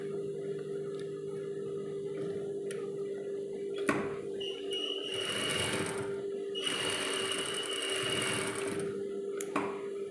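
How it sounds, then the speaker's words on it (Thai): A sewing machine stitching the seam of a fabric doll arm, with close, steady mechanical whirring in bursts, pausing and restarting, separated by sharp clicks and taps, no voices. "แล้วก็พับมาอ่ะตรงนี้เราก็เย็บฝั่งนี้ค่ะ"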